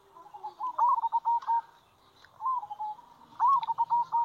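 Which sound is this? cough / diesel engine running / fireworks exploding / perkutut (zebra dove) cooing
perkutut (zebra dove) cooing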